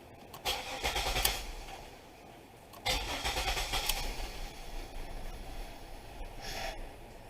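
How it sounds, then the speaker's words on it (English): A 2000 Pontiac Bonneville engine with an intermittent stalling fault runs rough and uneven, in two close, surging bursts of broadband engine noise separated by a brief lull, with a fainter flare near the end. "Yeah, it's running bad now."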